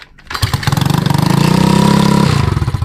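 A Honda TMX 155 motorcycle engine catches and runs noisily, a loud rough close-up putter that builds quickly after a brief start and holds a fast uneven rhythm.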